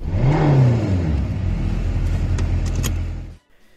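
Car engine revving up loudly and close, a rising whine that peaks early and then holds a steady drone before cutting off abruptly into near silence.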